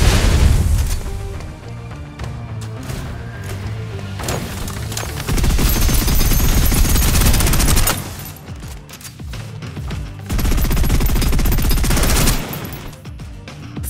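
Sustained suppressive automatic gunfire in the Snowbreak Containment Zone shooter, loud bursts with booming impacts rolling almost continuously, easing briefly around the eighth second before surging again, mixed with game music.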